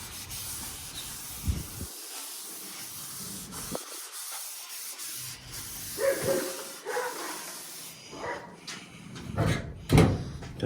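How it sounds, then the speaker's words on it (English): Brake cleaner sprayed onto a sheet-metal dash in an S10 pickup: several loud aerosol hisses close by, each a few seconds long, separated by pauses, with some rubbing and handling noise in between. "I know it's probably not the best way to do it with the brake clean, but it's all I got and it is working"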